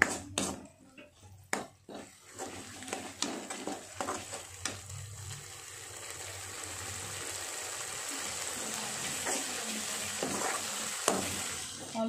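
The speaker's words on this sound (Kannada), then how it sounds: "ಅದಕ್ಕೆ ಇವಾಗ ಈ ಗ್ರೀನ್ ಮಸಾಲೆನ ಚೆನ್ನಾಗಿ ಫ್ರೈ ಮಾಡ್ಕೊಳ್ಳೋಣ" Ground green masala paste fries with roasted onions in a pan for crab curry. A steady close sizzle builds under scattered scraping stirs that come early, then thin out into a continuous hiss with no voices.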